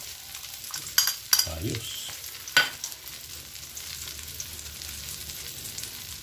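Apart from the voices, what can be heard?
ground pork frying in pan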